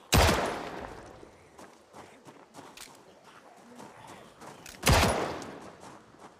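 Two loud, sharp bursts of rifle gunfire ring out in the zombie survival game Project Zomboid, several seconds apart, with lighter clicks and thuds of game action between them.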